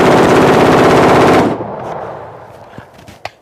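Full-auto bursts from an AR rifle: a loud, continuous rattle of rapid shots for about a second and a half, then a decaying echo with a few faint clicks and knocks.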